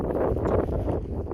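Strong wind gusts roar across a microphone on a Snowdonia mountain during a hailstorm in the Carneddau, a dense low rumble with no break.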